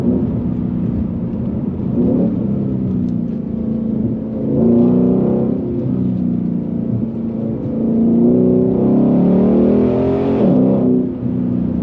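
A Ford Shelby GT350 Mustang's 450-horsepower engine roars and revs continuously, surging louder twice as it accelerates, loud and close with no talking.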